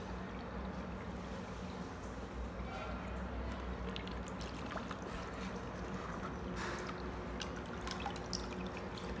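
Water flows and splashes steadily while a flowerhorn fish tank is cleaned without lifting it, a constant close gurgling wash with small drips, and voices faintly in the background.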